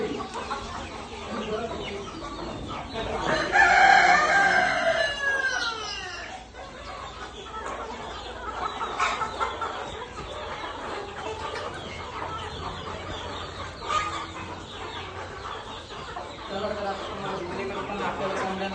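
Chickens cluck and squawk nearby on a poultry farm, with one rising, drawn-out call standing out early, while faint voices murmur in the background.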